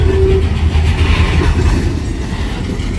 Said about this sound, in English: Just caught me a train switching out an industry in Gulfport,